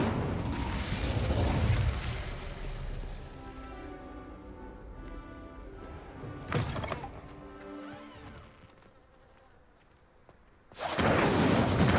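Incendio fire spell cast in the video game Hogwarts Legacy, a loud whooshing burst followed by a crackling, ringing magical tail with a sharp pop midway, then fading before another loud rushing burst at the end.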